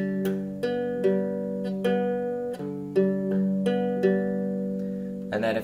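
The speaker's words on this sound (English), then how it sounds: "if you put all three of those parts together, you have Travis picking. So it sounds like this." Acoustic guitar fingerpicked slowly in a Travis picking pattern, with an alternating thumb bass under plucked treble notes, clear steady ringing plucks close up with no talk.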